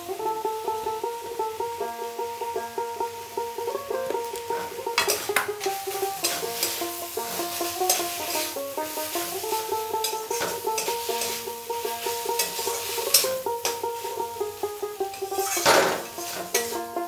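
Repeated scraping and clinking of a spoon stirring banana flower curry in a metal pan, irregular strokes over a soft sizzle, close and clear with no talking.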